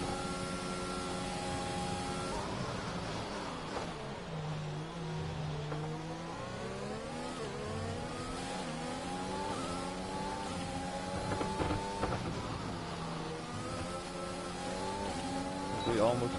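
Formula 1 cars in a racing game rev and accelerate through their gears around the track, with rising and falling engine whine that is steady and loud throughout and runs under commentary.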